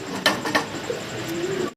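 A pair of Giribaz pigeons coo close by, with two soft throaty calls early on, then a low murmuring coo that trails off, all within a couple of seconds.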